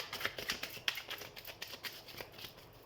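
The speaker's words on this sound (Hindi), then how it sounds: "तो हम कार्ड शफल कर लेते हैं।" Tarot cards being shuffled by hand, a quick run of soft riffling flicks and papery slaps close up, fairly quiet, with no talk.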